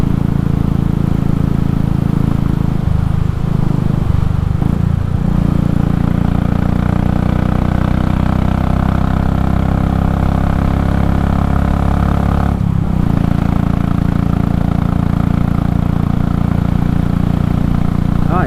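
A Royal Enfield Classic 500 single-cylinder motorcycle with a swapped 19-tooth front sprocket cruising in fifth gear, its engine droning steadily and loud throughout with a brief dip midway and heavy wind rush.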